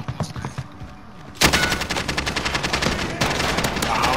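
Rapid automatic gunfire in a tactical shooter video game, with a lone shot followed by sustained bursts of fast, loud, close shots and faint voices beneath.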